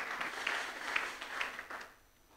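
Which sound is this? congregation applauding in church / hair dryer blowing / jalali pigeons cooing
congregation applauding in church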